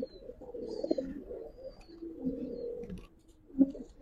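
Two pairs of Giribaz pigeons cooing, low rolling coos repeating in overlapping bursts, fairly close and soft, with no talking.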